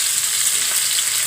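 Hilsa fish frying in plenty of oil, with a continuous bright hiss and crackle heard up close and on its own.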